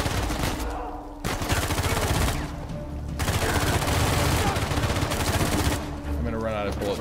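Rapid gunfire from a shootout in the video game Uncharted 4, dense bursts of shots rattling loudly across most of the stretch with brief lulls, a voice talking over parts of it.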